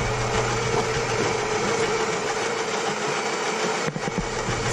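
A Gaggia super automatic espresso machine grinds coffee beans with a steady, buzzing mechanical whir that runs continuously close by before cutting out briefly near the end.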